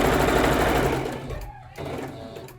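A sewing machine stitches a seam in a fast, loud whirring run that slows and stops, then resumes briefly in shorter back-and-forth bursts.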